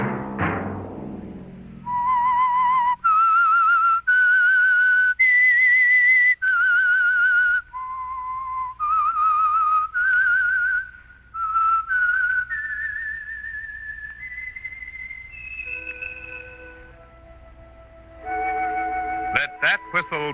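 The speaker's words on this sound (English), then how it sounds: "Let that whistle be your signal for the Signal Oil program" A single person whistles the clear, melodic theme tune of the radio program The Whistler alone, note by note with short pauses, ending with a sharp burst of noise.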